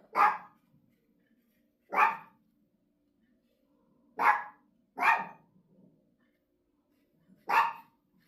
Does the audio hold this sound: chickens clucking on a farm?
no